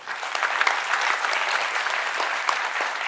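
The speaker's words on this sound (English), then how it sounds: "So big round of applause for Graham." An audience applauds steadily and densely throughout at a science circus show, a continuous even wash of clapping from many hands with no pauses.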